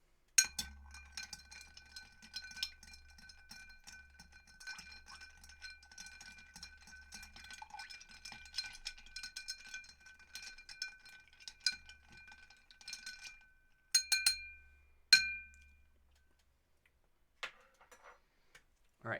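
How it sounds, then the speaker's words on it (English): A spoon or stirrer clinks and ticks against a glass while a cocktail is mixed, a long run of light, quick metallic taps close by, a few sharper clinks near the end and a low hum beneath. "And now we stir."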